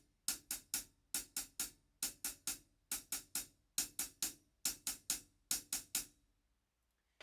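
A drum kit plays a repeating ostinato of two sixteenths and an eighth note, crisp close hits in even groups of three that repeat about seven times, then stop into silence.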